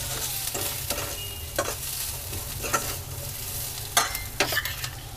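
Raisins stirred into corn and onion frying in a pan, with repeated scraping strokes roughly every half second over a constant sizzle and a low background hum, up close and without speech.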